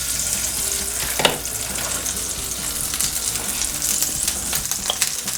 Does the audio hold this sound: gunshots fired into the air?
no